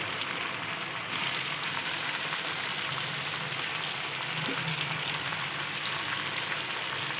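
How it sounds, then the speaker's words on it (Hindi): Chicken karahi frying with spices and tomato paste in a pan, a constant close sizzle running evenly throughout with one faint clink midway. "अब इसको हम इसके साथ कर लेंगे फ्राई।"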